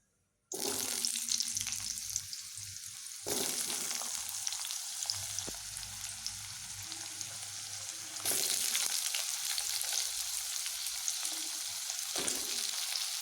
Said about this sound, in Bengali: এইবার এখানে আমি কেটে রাখা আলুগুলোকে এখন দিয়ে নেব